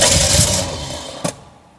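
Barn-find Triumph Dolomite 1850, unstarted for 34 years, cranking with a seized choke and nearly catching, a sputtering engine burst that fades out after a brief sharp knock.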